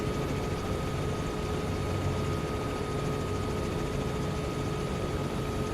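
Simulated Bell 206L helicopter winding up in Microsoft Flight Simulator 2024, a continuous low turbine drone and rotor hum holding steady throughout, with no speech.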